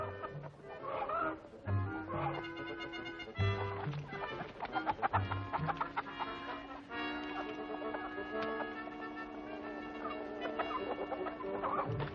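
Chickens clucking amid a busy wartime farmyard scene, the fowl calls mixing with a sustained orchestral score and scattered movement noise, fairly loud throughout with no clear talk.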